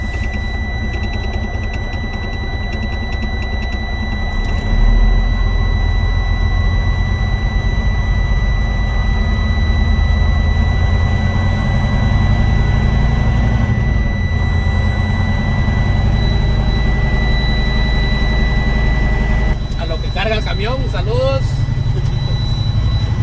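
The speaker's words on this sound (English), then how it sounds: "Now I'm going to raise my RPM no more than 1500, build maximum pressure" A truck engine idles in a heavy low drone, then the revs rise and hold steady for many seconds to build air brake pressure in the cab during a CDL Class A inspection, with someone talking over it.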